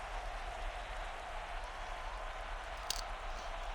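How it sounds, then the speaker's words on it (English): An indoor arena football crowd at an Outlaws home game gives off a steady, distant roar with scattered applause, faint and continuous with no distinct peaks. "The Outlaws crowd are cheering right now."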